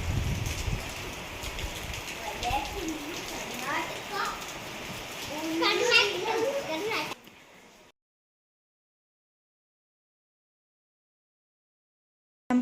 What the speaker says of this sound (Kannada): ನೋಡಿ, ಫುಲ್ಲು ಮಳೆ ಬರ್ತಾ ಇದೆ